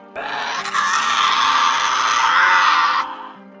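A harsh, loud, rasping Tasmanian devil scream lasting about three seconds, raw and growling, close by and alone.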